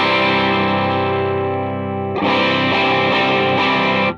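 Electric guitar through a Helix 3.5 cab simulation with a dynamic mic placed between the speaker center and edge, sustained distorted chords ringing loudly, then a fresh struck chord midway, playing alone.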